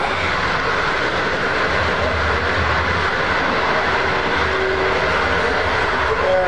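Passenger train running through the Chinese countryside, heard from on board as a continuous, even roar of wheels and carriage noise with no breaks.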